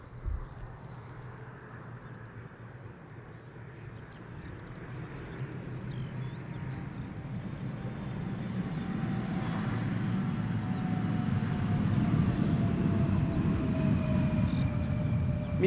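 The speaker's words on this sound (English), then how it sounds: "Embraer 175 arriving from Prague." Embraer 175 airliner arriving at Schiphol Airport, a distant jet roar building steadily louder into a broad, sustained rumble with a faint whine over it, and no one talking.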